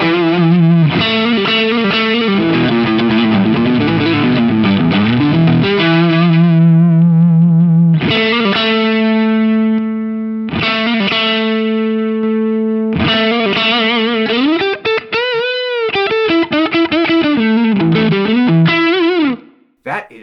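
A Stratocaster electric guitar runs through a BOSS Waza Craft pedal, switching between standard and custom modes. Sustained overdriven chords and bends ring loud and close in several phrases with brief pauses, without talk.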